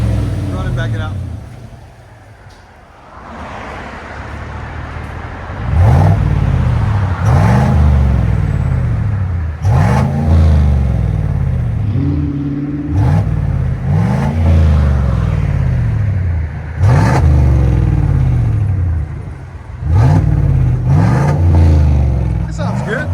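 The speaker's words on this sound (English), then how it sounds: "Chevy Silverado 2019. With a FLOWMASTER Super 10. Stock resonators. Stock duals out the back." A 2019 Chevy Silverado Custom with a 5.3L V8, Flowmaster Super 10 muffler, stock resonators and stock dual exhaust revs repeatedly, loud and close, each rise and fall of the engine note coming in regular bursts with speech heard between pulls.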